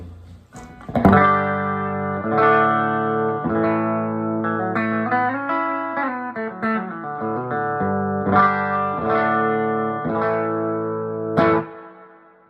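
Electric guitar on the bridge pickup through a Magnatone Twilighter tube amp playing sustained, slightly overdriven chords and a short melodic bend, warm amp tone with a touch of reverb, ringing out alone.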